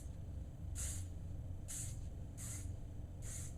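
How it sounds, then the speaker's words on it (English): Hair spray hissing onto hair in four short, bright bursts, each under a second and evenly spaced, heard close over a steady low room hum while the hair is scrunched. "I'm going to spray it all down and scrunch as I go"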